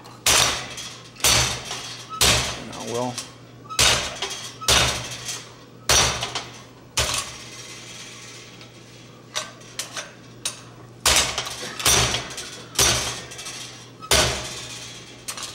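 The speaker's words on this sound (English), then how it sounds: "we might even could do a little bit of that cold here on the treadle hammer" A treadle hammer striking cold metal at a smithing conference demonstration, with sharp, loud metallic blows in uneven clusters and pauses between groups. A brief voice is heard.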